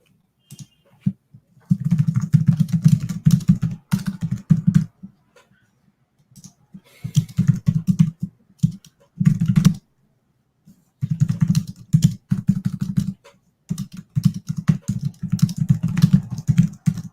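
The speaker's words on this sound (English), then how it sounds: "Some serious typing." Close computer keyboard typing comes in fast clattering bursts of keystrokes, broken by short silent pauses between each run.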